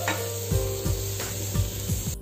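Chopped green chillies fry over medium heat in a pan, a steady sizzle broken by several rhythmic scraping stirs, close and fairly loud with no voices.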